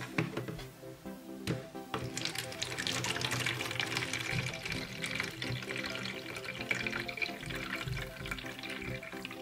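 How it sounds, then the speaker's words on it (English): Tap water pours steadily into a small toy baby-doll bathtub, a continuous close splashing rush that lasts throughout with no one speaking. "Now it's time to fill the bathtub with water."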